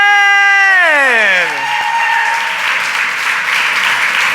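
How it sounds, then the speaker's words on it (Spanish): Church congregation applauding during a Spanish-language sermon; a sustained sung or shouted tone slides downward over the first second and a half, then gives way to a dense, loud wash of clapping from many people. "Yo te pido darle un aplauso a Jesucristo por el nuevo pacto, por el pacto de la gracia."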